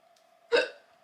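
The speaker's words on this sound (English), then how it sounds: "that's my little morning hiccup." One sharp, close hiccup from a woman in a quiet room, a single short burst that fades quickly over a faint steady background hum.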